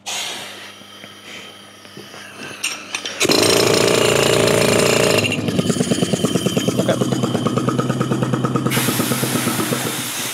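A pneumatic jackhammer used for roadworks hammers loudly and up close in a long, rapid, steady burst of pounding strokes, preceded by quieter clattering and low mechanical noise.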